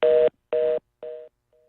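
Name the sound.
telephone dial tone after a dropped call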